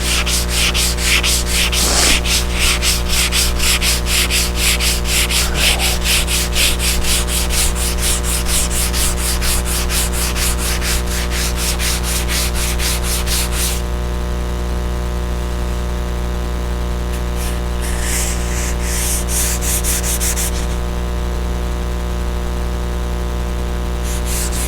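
A power sander works a boat's hull on a vessel named PANDORA, a loud, continuous grinding rasp with a steady motor hum, pulsing rhythmically and briefly lightening partway through before the scraping returns.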